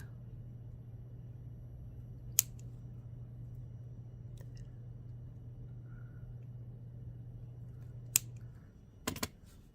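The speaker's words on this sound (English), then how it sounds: "And cut the extra wire off." Extra beading wire on a cherry blossom bracelet being cut, heard as a few sharp, isolated snips spaced seconds apart over a quiet steady hum, with a quick double snip at the end.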